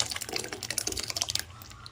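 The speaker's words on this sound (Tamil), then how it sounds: "இப்போ பருப்பை ஊற்றிடலாம்." Cooked moong dal pours into a pan for a cabbage koottu, a close, wet, gurgling glug of thick liquid that fades out after a couple of seconds.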